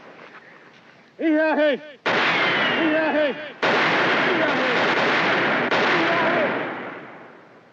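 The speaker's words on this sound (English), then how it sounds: "Hey, when to stop firing?" Gunfire in a TV drama, several loud booming shots close by in quick bursts over about eight seconds, with a short cry between the first blasts.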